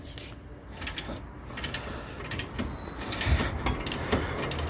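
A Harbor Freight torque wrench set to 96 foot-pounds ratchets on the strut nuts of a 1999 Toyota Corolla, giving a quick series of close, sharp clicking bursts.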